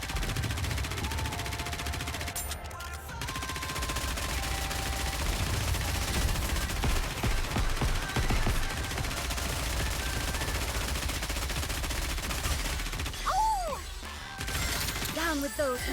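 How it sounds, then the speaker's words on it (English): Sustained automatic gunfire from the mobile game Goddess of Victory: NIKKE rattles on continuously, loud and dense under game music, with a voice talking over the shooting. "Keep shooting until the deed is done!"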